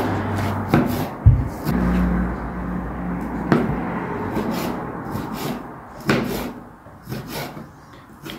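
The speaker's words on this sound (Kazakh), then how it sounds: "Мына шабдалды үстіп сопақ-сопақ етіп турап аламыз." Peaches are sliced into oval pieces for jam, with a knife knocking against a wooden board in several distinct thuds spread out among softer rubbing and cutting sounds, close by.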